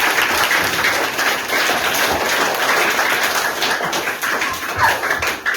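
Villagers gathered at a government school in Udaipur clap hard to welcome donors, a steady loud wash of many hands that keeps going without pause.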